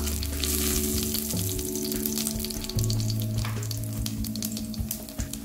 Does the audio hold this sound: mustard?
yes